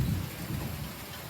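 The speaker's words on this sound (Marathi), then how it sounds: "पुण्यामध्ये जोरदार पाऊस पडतोय" Heavy rain pours down steadily in Pune, a dense, continuous roar of falling water with a low rumble of thunder beneath it, loud and close with no voices.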